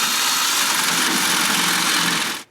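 A power drill bores a 3/8-inch hole through metal for a trailer hitch, a loud continuous whirring drone running steadily for a couple of seconds before stopping abruptly.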